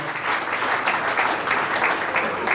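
A church congregation at a French-language worship service claps and cheers loudly and steadily, a dense wash of applause filling the whole stretch.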